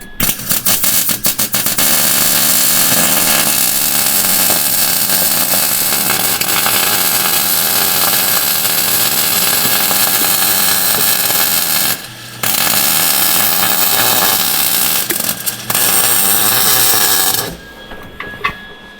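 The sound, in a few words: welding a repair on the Hillman Crawler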